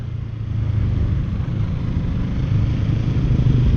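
A Kawasaki Z650 motorcycle rides through city traffic in Bacolod City, Philippines, its engine a steady, loud low rumble that stays constant throughout with no voices over it.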